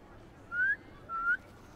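A whistle in the video game Spider-Man 2: two short rising whistled notes, each about a quarter second long, clear and moderately loud over quiet game background.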